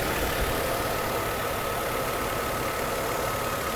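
A Mercedes W124 300CE-24 engine idles after repair of its fuel distributor and replacement of fouled spark plugs, a steady, even, loud hum with no voices.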